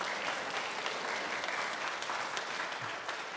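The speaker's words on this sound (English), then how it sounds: "Why don't y'all clap for Mom and Dad?" Children and a church congregation clap together in sustained, even applause that fills the room, moderately quiet and without speech over it.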